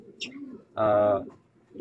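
A racing pigeon coos once, a short, close, throaty burst standing out between soft chirps and faint voices nearby.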